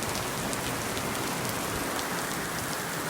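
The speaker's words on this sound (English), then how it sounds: "Another burst of rain." Heavy rain from a severe storm in Miami pours in a dense, steady, hissing roar that fills the whole stretch, close and loud, with no thunder and no voices.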